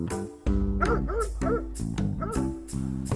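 A dog gives a run of barks and yips, several close, loud bursts in quick irregular succession, with a whimpering tone between them.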